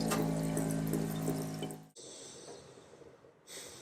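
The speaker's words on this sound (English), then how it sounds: "So we just got to open up all of our taps until we start to see some color" Running water splashes steadily from opened household taps, loud and close for about two seconds, then drops to a quieter, thinner trickle.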